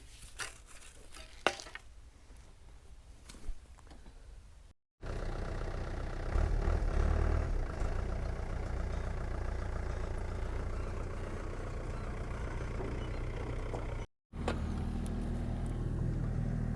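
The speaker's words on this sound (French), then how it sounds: "je vais me mettre à cul avec le camion" A truck engine runs steadily while the vehicle reverses on a building site, a loud continuous rumble that drops out briefly twice, with sharper clanks early on.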